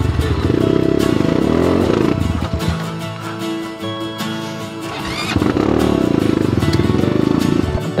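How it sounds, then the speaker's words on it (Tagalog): A motorcycle engine revs hard twice with a low idle between, loud and close, throaty and rumbling, on a trail ride at Mount Balagbag. "Gusto ng motor laging galit."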